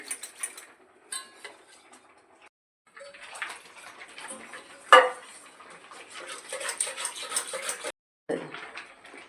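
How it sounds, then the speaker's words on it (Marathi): Yogurt whisked with a couple of spoons of gram flour (besan) for kadhi, a busy, irregular scraping and clinking of a whisk against a bowl, close, with brief pauses. "दही मध्ये बेसन थोडं टाकलंय दोन एक चमचे बेसन टाकले असतील आणि त्याला चांगला फेटून घ्यायच्या वेणीने"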